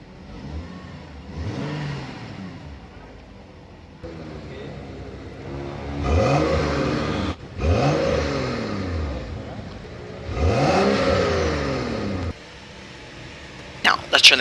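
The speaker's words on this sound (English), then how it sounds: "to turn the car on, just put your foot on the brake, and hit the start button to go" A 2011 BMW X5 engine starts and revs in a series of rising and falling surges, fairly close and moderately loud, with a brief idle between bursts.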